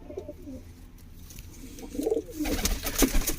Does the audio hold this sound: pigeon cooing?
yes